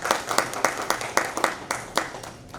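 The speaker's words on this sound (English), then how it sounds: "a round of applause for everybody sitting in this room." Audience at an enterprise services and digital transformation business summit clapping in a steady, fairly sparse rhythm of distinct claps, moderately close and fading near the end.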